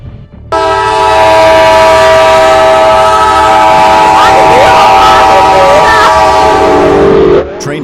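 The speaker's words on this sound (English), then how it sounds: "Train hits semi-truck in Haverstraw," A loud, sustained train horn blares over rumbling rail noise as the train hits a semi-truck in Haverstraw, New York, with a burst of clattering and scraping toward the end before it cuts off.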